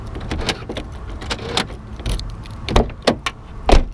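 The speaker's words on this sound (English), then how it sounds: "All the door locks work." Door locks of a BMW E36 operated with a key, with a series of close mechanical clicks and clunks of lock actuators and key handling, irregular and fairly loud.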